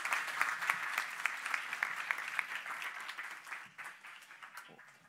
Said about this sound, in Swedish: Och en stor applåd